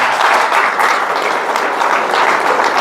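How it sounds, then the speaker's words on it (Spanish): A church congregation claps together in sustained, loud, even applause during a Christmas service, with no pauses or talking over it. "denle un aplauso al Señor Jesús"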